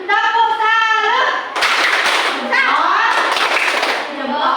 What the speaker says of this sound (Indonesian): Ibu mau ajak anak-anak untuk tepuk salut dulu ya